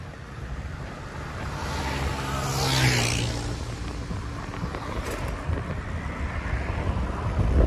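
Steady outdoor wind rushing past the microphone on a road near the highlands of Little Baguio, a continuous broadband roar that swells slightly midway, with no speech.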